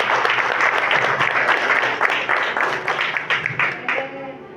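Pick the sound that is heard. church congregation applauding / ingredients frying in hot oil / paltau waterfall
church congregation applauding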